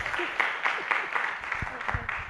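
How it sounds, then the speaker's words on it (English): A conference audience keeps applauding, steady crowd clapping at moderate level with a few sharper individual claps standing out near the end. "A round of applause for Cynthia"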